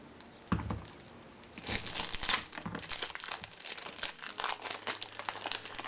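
Paper wrapping around a new cube puzzle package is crumpled and torn, giving close crinkling and ripping that runs on in irregular bursts.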